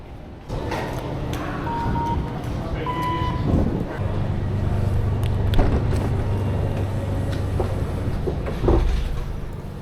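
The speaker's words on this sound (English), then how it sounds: "I'm currently taking a regional train operated by Keolis towards Hengelo" Rumbling ride aboard a Keolis regional passenger train in the eastern Netherlands heading toward Hengelo, a steady low drone with rattles, clanks and occasional squeaks of the carriage, no talking.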